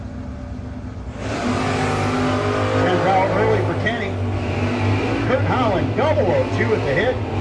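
A 1979 Camaro and a 1972 Nova drag race at a no-box 660 shootout, loud engine roar building and revving with rising and falling tones, while an announcer talks over the cars.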